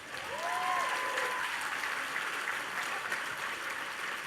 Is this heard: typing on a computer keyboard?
no